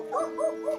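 Dogs yip and bark three times in quick succession, short mid-pitched calls at moderate distance, with no talking over them.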